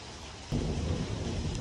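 Heavy rain pours down in a jungle, a steady dense hiss joined midway by a deep rumble of thunder that swells and holds under the downpour.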